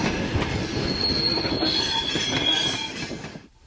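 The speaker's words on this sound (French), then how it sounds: "Il est toujours très impressionnant de rentrer dans une grande gare terminus." Train rolling into Milan Centrale terminus station, its wheels squealing in sustained high metallic tones over a dense rumble and clatter of rail cars, loud and close before cutting off.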